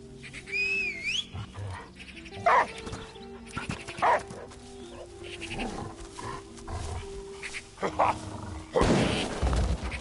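A dog barks several times in the video game Last Day of June: short, loud, separated barks over game music and ambient sound, with no voices.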